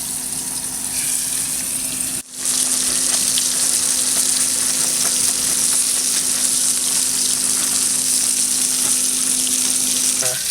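Steady, loud sizzling of freshly caught fish frying in hot oil as moisture cooks out, continuous crackle with a brief dip near the start, no voices.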